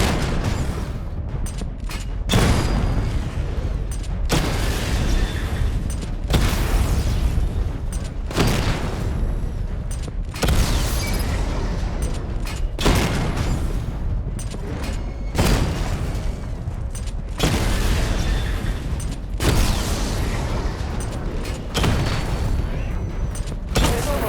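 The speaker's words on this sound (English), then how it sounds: "Charge the missile barrage to level 2 to destroy up to 4 targets at once." Batmobile missile barrage in Batman Arkham Knight: loud explosions in repeated clusters every few seconds, deep booms with rumbling tails under a steady mechanical drone.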